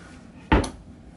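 A single quick thump of a cabinet drawer shutting, short and close, in an otherwise quiet cruise ship cabin.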